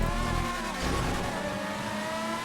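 An F1 race car in GTA 5 accelerates out of corners, its engine a steady, loud high-pitched whine with shifting harmonics that carries without pause from start to finish.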